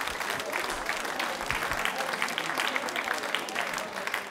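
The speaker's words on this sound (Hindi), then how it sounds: "तालियां जोरों से बजाइए आप" An audience at a quiz show applauds with sustained, steady clapping that fills the whole stretch at an even loudness, with no clear break.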